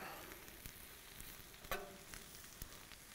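Onions frying in butter in a pan on an outdoor Camp Chef cooker, a steady, quiet sizzle with a few sharp pops and crackles scattered through it.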